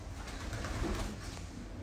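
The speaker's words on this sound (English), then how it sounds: "Ooh, there's a pigeon." Pigeon cooing outdoors in Goa, a soft low call heard faintly under steady background noise, brief and distant.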